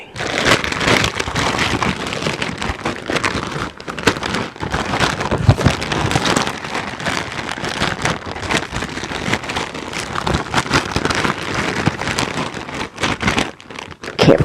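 Bag of chips being crunched and crinkled close up, a dense continuous crackle of rustling plastic and snapping chips with sharp clicks, no talking.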